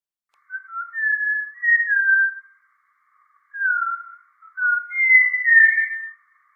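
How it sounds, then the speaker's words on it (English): Malabar whistling thrush song in the BR Hills, a series of clear, human-like whistled phrases in two bursts separated by a short pause, loud and close against an otherwise silent background. "for those of you who are not familiar with what the Malabar whistling thrush sounds like, here is why it's named this way"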